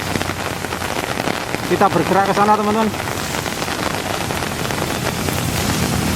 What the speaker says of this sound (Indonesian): saat ini kami sampaikan bahwa hujan masih terus mengguyur di Kota Malang